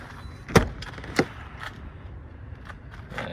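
The doors of a 2015 Ram Promaster diesel campervan are worked, giving two sharp, close clunks about half a second apart, followed by faint mechanical rattles.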